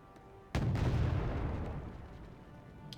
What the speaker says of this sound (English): Now Harrier GR7 dropping in the nuke